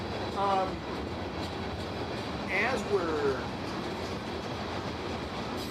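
A CN freight train rumbles and clatters steadily nearby, with a few short metallic wheel squeals over the continuous rail noise, while someone talks over it.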